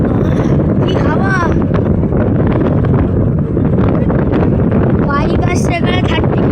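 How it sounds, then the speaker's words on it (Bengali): Strong wind roars steadily on an open ride toward Gorumara National Park, loud and continuous buffeting that nearly drowns out someone talking. "কি হাওয়া"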